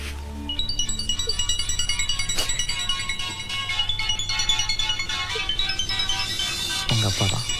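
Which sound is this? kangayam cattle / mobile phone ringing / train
mobile phone ringing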